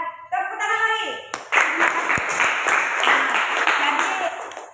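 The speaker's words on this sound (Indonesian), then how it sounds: "Ya, tepuk tangan lagi" A classroom audience at an Indonesian teacher-training session breaks into dense applause after a brief voice, many hands clapping together close and loud for several seconds before it gradually thins.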